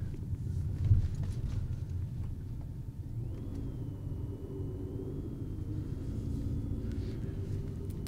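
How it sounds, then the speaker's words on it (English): A car drives around the block with a steady low engine rumble and road noise throughout, fairly close and even, with no talking over it. "Just going to drive around the block here"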